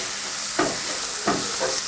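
Onion and tomato frying in a pan give a steady hiss, broken by three short scraping stirs at regular intervals, close and fairly loud, with no talk.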